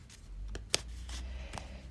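A deck of Zener cards being shuffled by hand, soft rubbing and riffling with a few sharper card snaps, close and fairly quiet, no talk.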